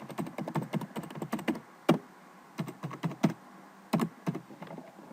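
Rapid, irregular clicking of a computer keyboard as someone types a short entry into Visual Studio, with bursts of keystrokes broken by brief pauses, close and clear with no talking.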